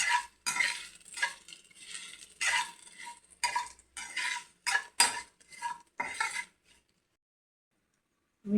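Sliced okra with green chillies sautéed in a pan, short bursts of spatula stirring and scraping with light sizzling, rhythmic and close, then falling silent before a final knock.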